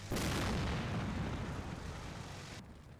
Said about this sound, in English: that was our 81mm mortars that we were using for on-map mortar carriers